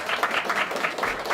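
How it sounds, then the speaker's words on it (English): Applause from an audience at a district leader campaign event, a steady wash of many hands clapping at moderate volume with no break across the short span. "He needs a big hand of applause"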